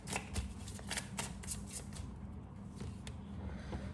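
Love angel oracle cards are shuffled and handled up close, a run of quick riffling snaps and soft slides over a low room hum, with no voice.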